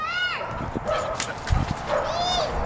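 A dog in a backyard whimpers and yips close by: high, wavering whines at the start and end with short yelps between, over constant outdoor background noise.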